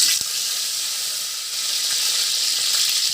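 Curry leaves crackle and sizzle loudly in hot oil as a base for a pork intestine curry, with one sharp pop at the start and then a continuous close hiss.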